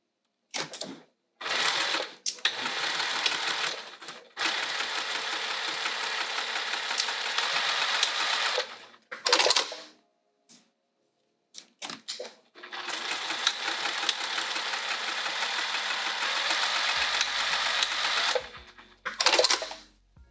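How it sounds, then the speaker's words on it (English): Home sewing machine stitching two reinforcing rows across a fabric bag corner, a close, steady whirring run in two long bursts separated by short pauses and brief starts. "I like to reinforce my corners with 2 rows of stitching."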